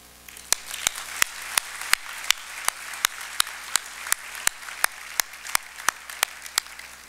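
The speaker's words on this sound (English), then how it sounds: "Please join me for a round of applause to honor them." Scattered audience clapping at an evening gala honoring entrepreneurs, heard as sparse, evenly spaced single claps at a slow steady rhythm over a low room hum, with no talking.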